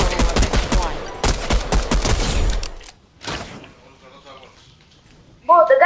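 Rapid bursts of loud, close gunfire in a shooter video game, several quick volleys of sharp cracks in the first half, then quiet, with talking over the shots.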